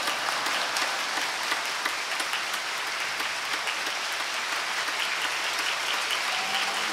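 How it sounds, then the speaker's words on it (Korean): A church congregation applauds steadily to welcome the pastor at an anniversary revival service, a dense, even wash of many hands clapping continuously without a break. "큰 박수와 할렐루야로 우리 목사님 맞이하겠습니다."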